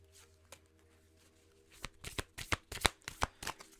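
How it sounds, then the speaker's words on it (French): Oracle cards shuffled by hand during a tarot-style reading, starting with a few soft handling sounds and then a run of crisp, close riffling bursts, with no talking over them. "On va aller chercher maintenant une carte conseil de Jenna Blumsum."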